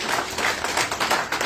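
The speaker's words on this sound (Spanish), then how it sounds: "Denle un fuerte aplauso al Señor" A church congregation applauds together at the close of a Tuesday service, a steady dense wash of many hands clapping, loud and continuous, with no voices over it.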